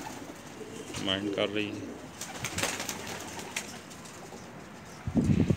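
Red-eyed Kamagar pigeons from a breeding pair give soft, close cooing in short bursts, with a brief rustle of movement and a person speaking nearby.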